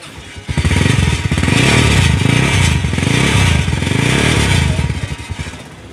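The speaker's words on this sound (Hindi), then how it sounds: "दोस्तों 18 मॉडल है तो इसका सेल्फ स्टार्ट चेक करते हैं पहले।" A 2018 Honda CB150F motorcycle fires up on its self-starter, a short crank catching into a loud, close idle with a brief rev that settles before cutting off.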